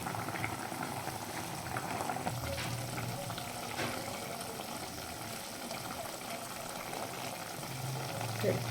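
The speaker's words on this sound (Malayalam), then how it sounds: "നമ്മുടെ മീനൊക്കെ നന്നായിട്ട് തിളച്ച് നന്നായിട്ട് വന്നിട്ടുണ്ട്" Sardine peera (mathi) bubbling and boiling in a pot, a steady close simmer of popping and hissing that runs throughout, with a faint voice in the background.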